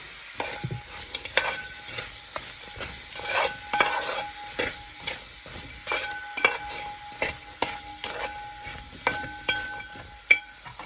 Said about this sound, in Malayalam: ഇനി അത് സബോള വഴറ്റണം. അതിന് വേണ്ടിയിട്ട് ഒരു വലിയ സബോള ഇടുവാണ്.